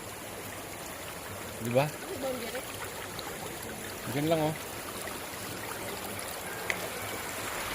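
Spring water flows steadily from its source at an outdoor spring, a constant soft trickling hiss running underneath brief bursts of nearby talk.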